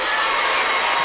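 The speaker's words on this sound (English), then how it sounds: "East fans made the trek from Memphis. They're screaming and hollering." High school basketball fans at a Division 1 Class 3A boys quarterfinal scream and holler in a packed gym, a loud, dense, continuous roar of cheering voices.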